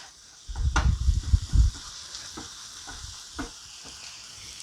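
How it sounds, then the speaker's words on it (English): Seasoned taco filling with paprika is stirred in a hot pan, giving a loud burst of scraping and sizzling for about a second, then quieter intermittent stirring scrapes over a faint sizzle. "I'm going to give this a stir really quick."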